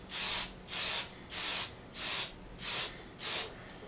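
Six short bursts of aerosol spray, each a steady hiss lasting about half a second, evenly spaced with brief pauses between, close by.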